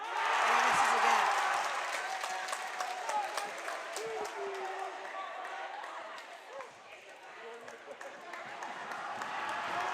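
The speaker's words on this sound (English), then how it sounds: "The crowd's rocking." A crowd at a Los Altos versus Mountain View varsity basketball game cheers and applauds loudly at first, then settles into a lower roar while a commentator talks over it.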